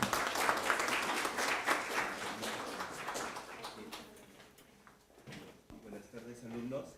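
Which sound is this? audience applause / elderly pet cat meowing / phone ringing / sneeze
audience applause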